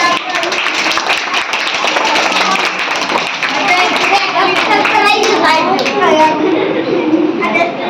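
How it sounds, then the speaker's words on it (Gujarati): Schoolchildren clap together at a primary school cultural day with costumes, a dense steady burst of applause running the whole way with some kids' voices mixed in. "તાળી"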